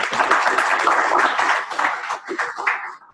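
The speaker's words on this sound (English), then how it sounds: "This is the first time that people applaud before my talk." Audience at a birthday celebration conference applauding, a dense, steady wash of clapping that holds for several seconds and then tapers off.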